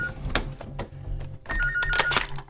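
A telephone rings twice in a tense indoor scene, the rings sharp and electronic with a brief pause between them, over a low music bed and no talking.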